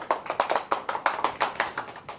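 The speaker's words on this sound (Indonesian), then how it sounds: "Oke, tepuk tangan buat Meka." A small group claps hands together in a casual rhythm during a peer-counseling and mental health class session, with quick, fairly close claps lasting about two seconds.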